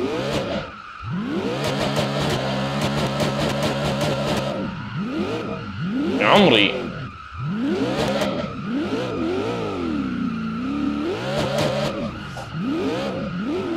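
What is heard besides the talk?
car engine revving and skidding in a video game, hood-mounted exhaust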